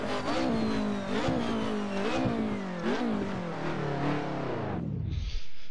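A vintage BMW with a five-speed gearbox races in Assetto Corsa, its engine revving hard through several rising pulls and gear changes, loud and close, then winding down sharply at the end.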